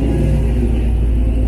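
Car pulling into a car cruise gathering, its engine giving a steady, loud low rumble close by with no break throughout, and no talking.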